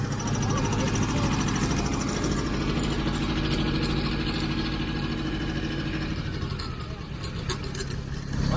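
A John Deere tractor engine runs with a steady, deep idling rumble close by while haying, continuous throughout, with people talking under the noise.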